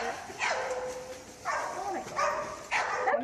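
A big dog makes a few short yips and whimpering barks in separate bursts, with a laughing voice and chatter in the background.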